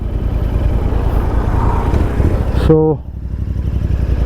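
Royal Enfield Interceptor 650 motorcycle pulling away, its engine rumble steady and close with a brief tonal whine near the end, a voice speaking briefly over it.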